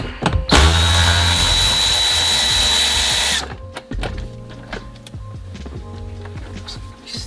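A power tool spins out 10 mm seat bolts in a VW during a short shifter install, a loud, close whir lasting about three seconds, followed by clanks and rattles of parts being handled.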